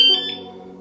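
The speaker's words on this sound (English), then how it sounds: "That confirms the alarm is armed." A short, shrill electronic beep from an e-bike alarm arming chirps twice in quick succession, close and clear, then fades out.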